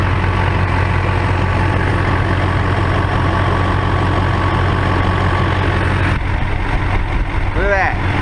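A truck with about 400,000 miles on it idles steadily with a low, even engine rumble, close and constant, while someone talks over it.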